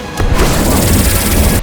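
Cannon fire in the animated film Kung Fu Panda 2, a loud booming blast followed by sustained rumbling roar and crashing debris.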